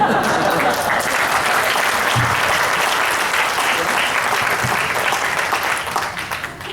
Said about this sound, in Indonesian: Teman-teman boleh tepuk tangan